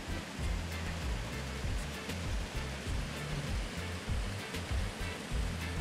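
A river or waterfall gives a steady, loud, broadband rush that fills the whole clip, with no voices over it.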